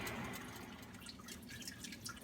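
Excess water dripping and trickling from wet grain during home beer brewing, a soft continuous patter of drops, close but quiet.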